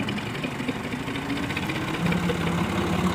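A tractor engine idles steadily low and continuously with a throbbing, knocking rhythm, fairly close and unbroken throughout.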